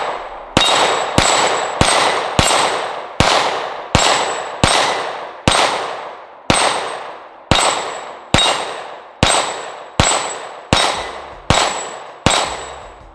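Sixteen sharp pistol shots from a CZ P-10C Ported handgun ring out one at a time at a steady, unhurried pace, each loud crack trailing off into a ringing decay before the next.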